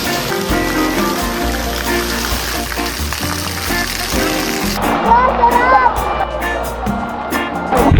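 Balite Falls pours with a constant rushing hiss of falling water that comes in after a stretch of background music, with people talking over the splashing roar.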